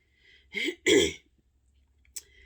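A person clears their throat twice in quick succession, close and fairly loud, followed by a brief faint click, with quiet in between.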